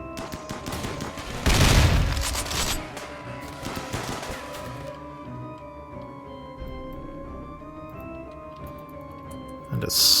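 Mini turrets in the game Rimworld open fire on charging pachyderms, a loud burst of rapid shots around two seconds in, trailing into softer ticking shots over a low steady game-music drone, with another sharp blast near the end.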